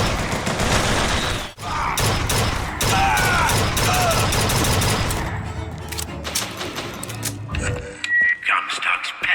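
Rapid automatic gunfire from a deployed turret in a BioShock Infinite firefight, loud dense bursts rattling for several seconds with explosions and mechanical clatter, then thinning into scattered shots and noises.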